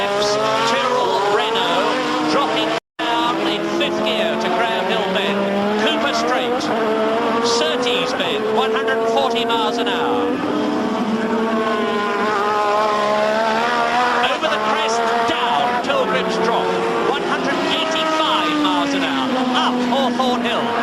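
A 1986 Formula 1 turbo car screams at full speed during Brands Hatch qualifying, its engine a loud, continuous high-revving wail with shifting pitch, heard under steady commentary.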